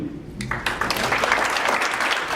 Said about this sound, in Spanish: vamos a recibir también con un fuerte aplauso al doctor Fernando Borrego Murillo